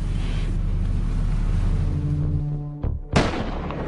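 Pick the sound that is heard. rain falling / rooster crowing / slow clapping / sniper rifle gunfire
sniper rifle gunfire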